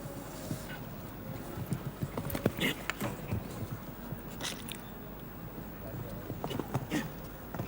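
Faint hoof clip-clop from a show jumping horse at the FEI European Jumping Championships in Donaueschingen, Germany, steady irregular thuds under crowd ambience and a commentator's voice.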